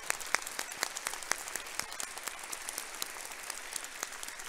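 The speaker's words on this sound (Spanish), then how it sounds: "acompáñenme a aplaudir a nuestros panelistas de tanto nivel" Audience at an energy-sector panel session of the CNP 2022 conference in Mexico applauding the panelists, steady dense clapping with sharp individual claps standing out, sustained throughout without speech.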